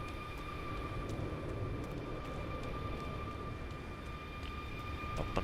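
A Cessna Longitude business jet in Microsoft Flight Simulator 2024 idles at a holding point, its engines giving a steady, fairly quiet whine and rumble with a constant tone and no talk over it.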